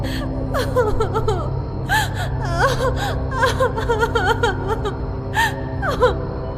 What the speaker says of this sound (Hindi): उसे वहां पर एक लड़की के रोने की आवाज सुनाई दी।